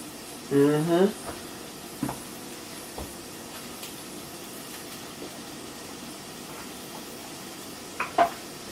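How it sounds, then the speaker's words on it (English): Chopped kale frying in a hot pan gives a faint, steady sizzle that runs the whole time, with a brief voice near the start and a few soft utensil knocks. "It's starting to do that sizzle"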